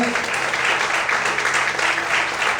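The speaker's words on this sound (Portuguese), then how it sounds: "Quantos podem aplaudir e exaltar ao Senhor esta manhã?" A church congregation claps together to exalt the Lord, a brief, steady and fairly loud wash of applause throughout.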